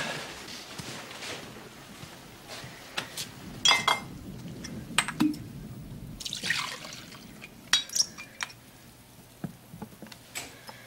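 Whiskey poured neat into a glass with no ice, heard as intermittent liquid splashes and bright glassy clinks over a quiet indoor background.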